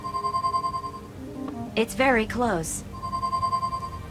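A phone ringing in the video game Leisure Suit Larry - Wet Dreams Dry Twice, a steady electronic trilling ring that repeats before and after a short spoken line from a character.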